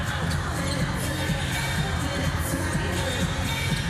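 A large basketball crowd at the EuroBasket 2025 group game between Türkiye and Portugal fills the arena with a steady, dense roar and murmur, with no single voice standing out.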